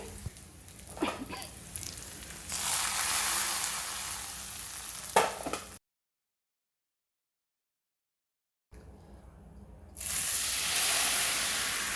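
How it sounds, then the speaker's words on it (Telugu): Hot tempering of cumin, dried red chillies and curry leaves sizzles loudly as it goes into dal for pappu charu. A steady, close frying hiss stops for a silent gap, then comes back. "వేగిపోయినాయండి తాలింపు ఇప్పుడు పప్పులో వేయాలి"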